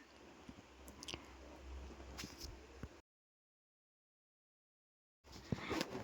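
Ripe palm fruit pulp scooped into a bowl with soft, wet, squishy sounds close by. The sounds continue steadily, stop for a few seconds of silence, then resume briefly.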